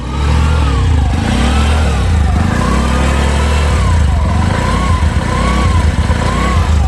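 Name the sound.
Bajaj CNG auto-rickshaw engine running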